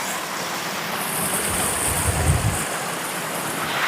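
Steady broadband water rush of a waterfall in the Upper Peninsula woods, continuous and fairly loud, with wind gusting over it and no talk.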